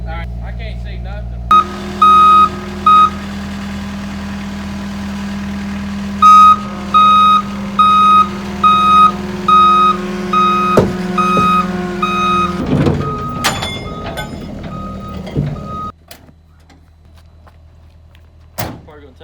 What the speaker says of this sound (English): You gonna be able to move the truck from there?